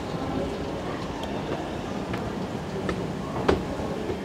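Purple train at platform 2 of a British station serving Reading Green Park, a steady low rumble of wheels and rolling stock with faint clicks and one sharp metallic clank near the end, no speech.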